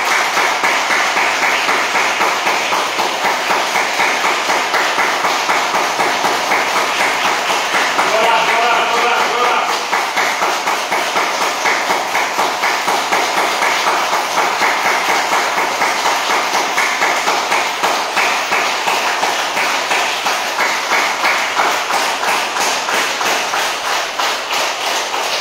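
Loud, sustained applause from a group at a yoga session, a dense steady patter of rapid claps continuing for about twenty-five seconds.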